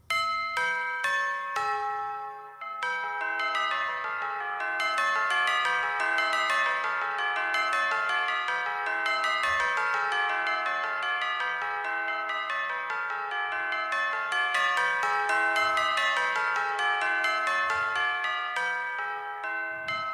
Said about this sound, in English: and then I've got bells there, right?